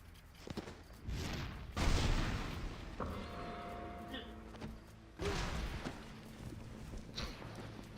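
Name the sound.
explosion in a video game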